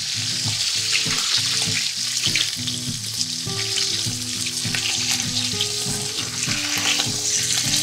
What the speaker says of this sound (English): I always like to brown the meat first.